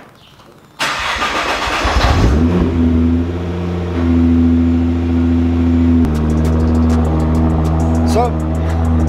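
A Nissan GT-R sports car cold start: a starter whirs briefly before the engine catches with a loud roar, then settles into a rumbling idle that steps up in pitch as it runs on.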